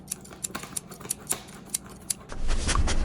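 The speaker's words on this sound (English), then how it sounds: "I'm using scissors and I didn't even ask a parent's permission to do so." Scissors snip along a long dotted line on paper while bath bombs are being made at home. About a dozen crisp, close cuts come in a quick irregular rhythm. A louder rustling, handling noise takes over near the end.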